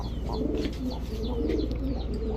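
Pigeons coo softly and repeatedly over a steady low background hum, with a few faint chirps mixed in.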